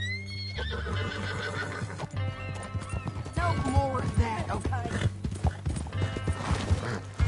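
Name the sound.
horse neighing and hooves in video game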